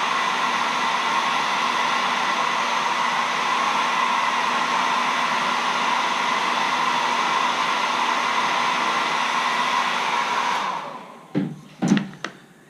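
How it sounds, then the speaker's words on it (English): A hair dryer blows in a loud, steady whir close by as it dries paint on a carved wooden caricature letter opener, then switches off, leaving a few brief knocks. "So I'll hit it with a hair dryer again."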